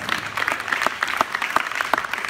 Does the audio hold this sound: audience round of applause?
yes